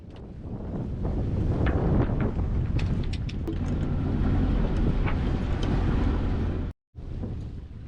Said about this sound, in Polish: bo niestety wiało zdecydowanie za mocno